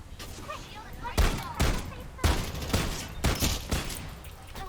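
Gunfire in the battle-royale shooter Farlight 84: repeated loud bursts of shots in clusters about a second apart over a steady background hum, with players talking over the action.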